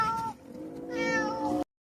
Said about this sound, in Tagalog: Talaga pinapakain niya yung mga pusa.